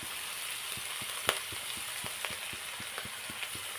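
Food seasoned with turmeric powder and salt fries in a pan with a soft, continuous sizzle, punctuated by regular light clicks from a stirring utensil.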